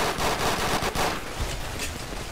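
Rapid automatic gunfire in the Fallout: New Vegas video game, a dense continuous burst of shots that stays loud throughout, eases slightly after the first second, and carries no speech.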